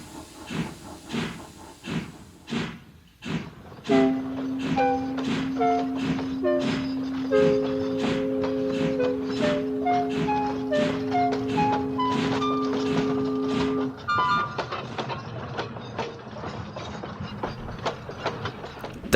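A steam locomotive pulls a train along the line, opening with a few sharp, separate chuffs that blend into a steady beat under loud hissing steam, while sustained whistle tones sound for several seconds in the middle.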